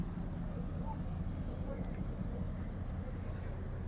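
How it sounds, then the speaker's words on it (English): A low, steady ship engine rumble from two engines drones continuously, deep and even, with a windy, open-air wash over it, in thick fog near the Duluth Lift Bridge. "Can you hear that engine? Both of those engines."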